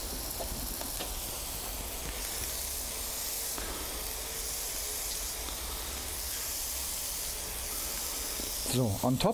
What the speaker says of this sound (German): Und jetzt einen Tropfen Wasser. Und durch den Dampf ist der Käse gleich ruckzuck geschmolzen.